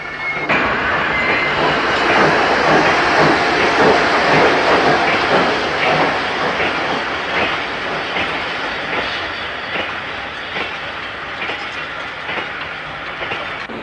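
Locomotive 7437 pulling away to shunt goods wagons in a yard, a loud, steady rumble of wheels on rail with rhythmic clickety-clack beats and some hiss, fading slightly as it moves off.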